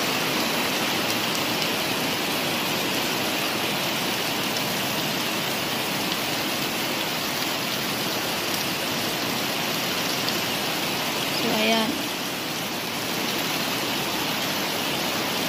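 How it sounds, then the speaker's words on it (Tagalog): Heavy rain pours steadily on a rainy afternoon at a farm home in the Philippines. It is a dense, constant hiss throughout, with one brief faint bump near the end and no voices. "ang ulan dito sa amin."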